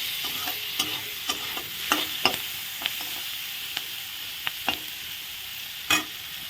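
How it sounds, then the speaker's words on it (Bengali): Chopped tomato fries with onion and garlic in a pan: a soft, constant sizzle broken by a series of sharp spatula scrapes and taps as it is stirred. "পেঁয়াজ রসুনের সাথে ভাজা হয়ে যাবে ভালো করে"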